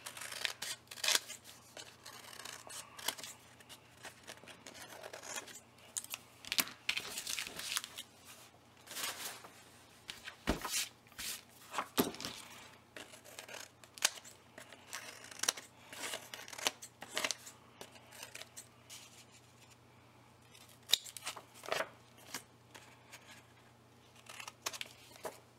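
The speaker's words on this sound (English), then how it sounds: "When you cut a bunch of sheets of paper together," Scissors snip repeatedly through a thick stack of paper sheets while making a tag-shaped journal, a long run of crisp, irregular cuts and rustles, close and fairly loud, with no talking.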